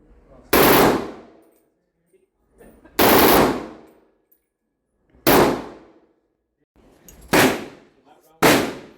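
A machine gun fires at a shooting range in Miami: five loud, close bursts spaced roughly two seconds apart, each a sharp rattling blast trailing off into ringing echo, with near silence between them.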